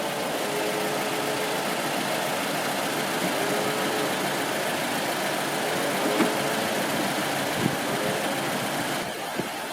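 A Toyota Camry engine idles steadily at operating temperature, a continuous close, even drone with faint vibration and no speech throughout.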